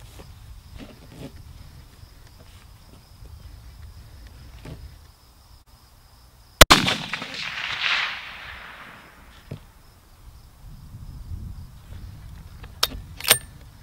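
A rifle fires one shot during an ammunition brand test at a range: a single sharp crack with a rough, fading tail, set against quiet outdoor background noise.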